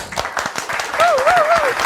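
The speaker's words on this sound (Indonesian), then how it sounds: "Tepuk tangan buat Mbak Sri, Bos." A small group claps for a woman introduced as Mbak Sri at a casual gathering. The claps are distinct and close, and a wavering whistle-like voice tone rises over them midway.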